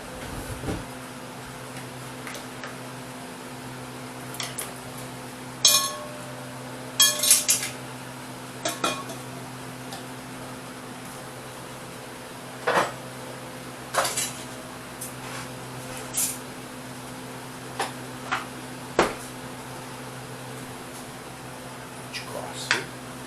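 Plates and serving utensils clink and tap in sharp, scattered bursts while Brussels sprouts are served in a dining car, over a steady low hum of the train.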